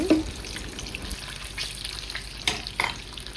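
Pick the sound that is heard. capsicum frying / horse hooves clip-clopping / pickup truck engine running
capsicum frying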